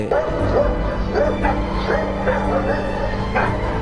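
Two dogs bark repeatedly at an intruder inside a house, sharp yips and barks arriving in an uneven run of loud, close bursts, with whimpering between them.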